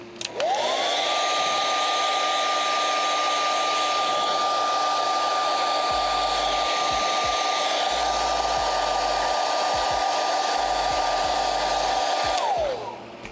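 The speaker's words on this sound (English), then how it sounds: "Let me hit it with a hairdryer a bit more." A hair dryer runs continuously at close range, drying contact cement in a workshop, a steady whooshing roar with a high motor whine that starts and shuts off cleanly.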